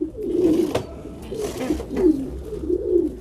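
Pigeons coo softly in a loft cage where squabs are kept, including homing-pigeon chicks, with several low rolling coos repeating close by over a steady background murmur.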